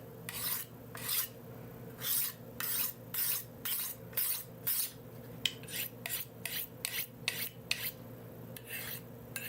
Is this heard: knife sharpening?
yes